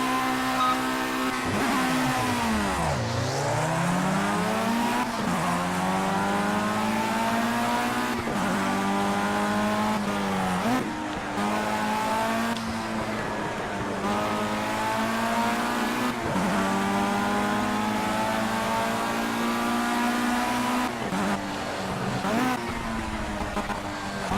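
Formula One race car engine in the Project CARS video game, a loud continuous high-pitched whine that climbs through repeated upshifts and dips at several downshifts, racing on steadily throughout with no talk.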